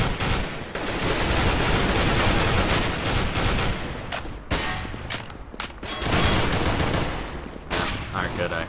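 Near-constant video game gunfire, long loud rattling bursts broken by a few brief pauses and sharp single cracks over several seconds.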